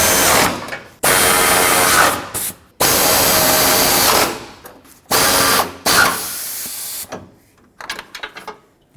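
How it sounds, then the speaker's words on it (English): Power driver buzzing in several bursts of a second or two each while the radiator mounting bolts are snugged down on a 1996–2002 Toyota 4Runner, close and loud with short pauses between runs. "Put back the 4 mounting bolts for the radiator."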